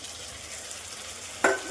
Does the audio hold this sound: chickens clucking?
no